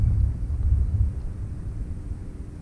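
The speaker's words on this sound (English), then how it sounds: "Thundering pretty heavy back there behind me back there." Heavy thunder rumbles low and steady from a distance behind a fishing spot, a continuous deep roll that swells and fades slightly with no voices over it.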